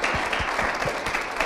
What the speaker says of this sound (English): we could do another round of applause